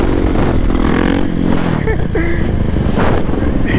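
A motorcycle engine revs loudly and close in a short burst while the rider pops a wheelie, with wind noise and a voice briefly audible over the engine.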